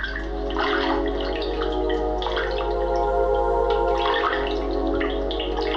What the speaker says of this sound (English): the new game didn't have that drippy water pouring sound in Zone 0